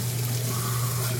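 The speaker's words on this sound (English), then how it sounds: "Turn the water back on," Tap water runs steadily into a sink during hand dishwashing, a continuous close hiss with a low hum beneath, no talking.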